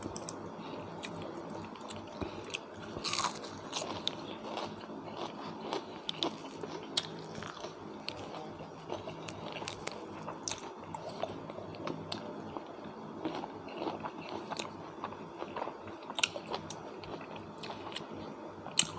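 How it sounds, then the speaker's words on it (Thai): Someone chews and eats beef from a Thai beef stew, producing close, faint, irregular biting and soft crunching sounds that continue steadily throughout. "หม่ำเนื้อครับ"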